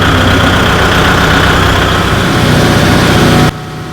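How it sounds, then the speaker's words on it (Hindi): A Kubota tractor engine idles close by with a loud, steady low rumble and constant mechanical hum, then cuts off abruptly just before the end. "तो कृपया भैया आप इसको स्टार्ट करके दिखाइए।"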